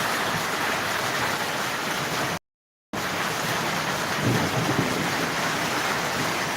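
Heavy rain pours down in a dense, steady hiss, loud and close with a constant broad roar and some wind, interrupted by a brief cut to silence before resuming.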